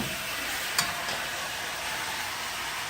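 Seasoned meat with black pepper and onion powder browns in a hot pan, giving a steady, close hiss of sizzling throughout, broken by one brief clink near the start.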